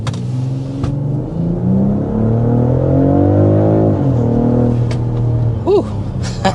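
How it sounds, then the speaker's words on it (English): A 2025 BMW X3 M50 accelerates hard. The engine note climbs steadily in pitch and loudness from inside the cabin, then drops off as the vehicle eases back, followed by a brief exclamation. "there we are with a quick little jolt of acceleration in this X3 M50"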